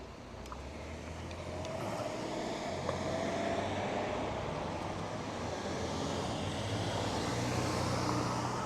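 A car passes through an intersection, its engine and tire noise rising into a steady broad rumble of traffic heard from inside a vehicle, moderately near and without talk.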